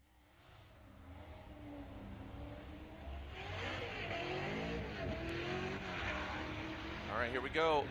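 A BMW drift car rips through the course during Formula Drift Seattle qualifying, its engine building and revving from a distance into a louder high-pitched wail, with a commentator talking over it.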